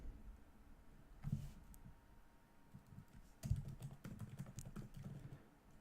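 Keys clatter on a computer keyboard in uneven bursts of soft taps with short pauses between them, close but quiet, with no voices.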